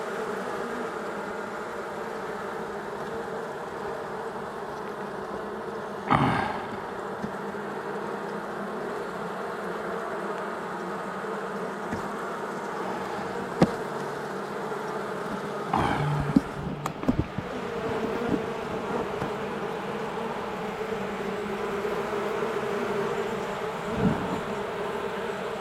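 Honeybees buzz steadily around an open hive during a warm-day winter check, a continuous close drone with occasional clunks and knocks from handling the hive, and no voices.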